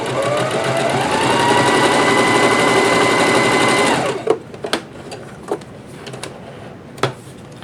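A budget home sewing machine fitted with a quarter-inch quilting foot stitches steadily in a loud, even whir, then stops abruptly and gives way to scattered clicks and small handling knocks.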